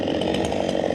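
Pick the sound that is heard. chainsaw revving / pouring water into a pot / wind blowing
chainsaw revving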